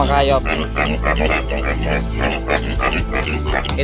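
Native pigs on a small farm grunt and oink loudly up close, a continuous run of rough, throaty grunts under a low steady hum, without any talking.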